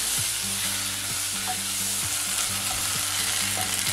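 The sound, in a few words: ginger and garlic frying and being stirred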